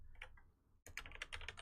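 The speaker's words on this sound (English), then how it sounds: "Typing Personacon on YouTube." Someone types on a computer keyboard, a few light taps, a brief pause, then a faster run of crisp, close keystrokes, with no voices.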